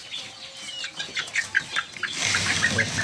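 Desi chickens cluck in a steady run of short calls on a poultry farm, fairly close, with a busier, louder burst of clucking and rustling toward the end.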